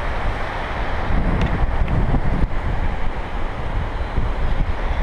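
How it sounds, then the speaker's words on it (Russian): A mountain river near Nikko, Japan rushes continuously, a dense, loud roar of flowing water mixed with wind buffeting the microphone. "а здесь вот прям-таки горная река"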